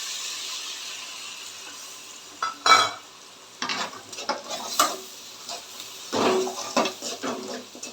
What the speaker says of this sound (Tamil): லெமன் சேர்த்து ரொம்ப நேரம் வந்து வதக்க வேண்டாம் ஒரு செகண்ட் போதும்